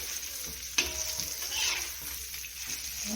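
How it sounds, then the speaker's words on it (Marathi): Flour-coated fish frying in a pan gives a steady close sizzle with a brief sharp clatter near the start, continuous and moderate in level with no talk. "इथं आपला मासा फ्राय होतोय का तर इथे मस्तपैकी आपला मासा फ्राय होत आलेला आहे"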